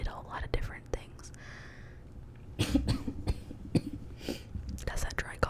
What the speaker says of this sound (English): That's that dry cough I was telling you about.